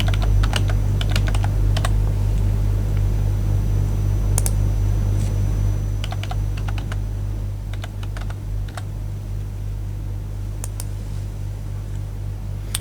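Keys clatter on a computer keyboard as a username is typed, in short bursts of clicks separated by pauses over a steady low hum. The keys sound close and distinct, with no voice.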